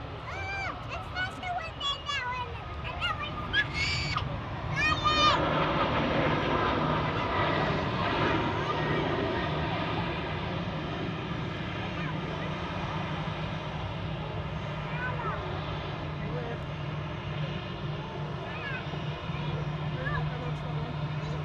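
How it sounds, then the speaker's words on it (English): A Boeing 737 MAX jet departs Manchester Airport with a steady, distant engine roar that holds throughout, while people talk over it. "737 Max just departing."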